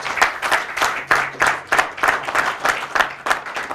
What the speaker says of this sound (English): a round of applause for DFT Communications